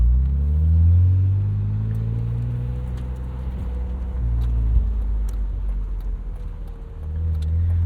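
A 1999 BMW Z3 M Roadster cruises on the road, its engine a steady low rumble that swells and eases slightly as it drives, with no talking.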